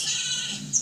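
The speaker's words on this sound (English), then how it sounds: "Sounds like a bad sheep" A short, wavering bleat from a sheep in the video game Skylanders Trap Team, close and fairly loud, lasting under a second with no talking.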